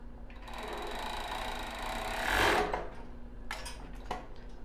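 A sewing machine stitching lace panties, its motor running in a steady close whir that swells briefly, followed by a few clicks and handling sounds.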